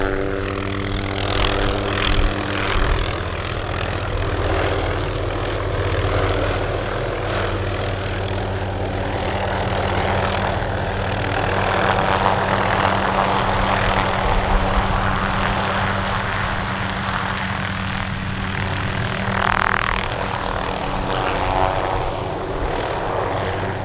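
A helicopter carrying bighorn sheep during a restoration capture keeps up a loud, steady rotor and engine drone throughout, close and unbroken, with no talk.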